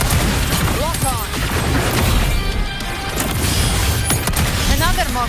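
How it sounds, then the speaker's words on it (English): Mortar blasts and crashing impacts in Wuthering Waves combat, a dense, loud barrage of booms and smashes with game music and character voice lines over it. "Another mortar thrown at us."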